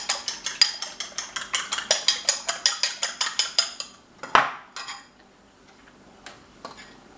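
A utensil clinks quickly and steadily against a bowl while a kilo of chicken is mixed with two eggs for chicken parmigiana. About twenty sharp taps come in a row, then one louder clatter and a few faint knocks.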